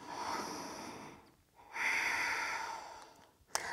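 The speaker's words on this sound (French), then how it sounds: "Encore 2 belles respirations" Deep, slow breathing during an intense intermediate Vinyasa yoga flow, a long airy exhale followed by a fuller inhale, close and steady with a brief sharp click near the end.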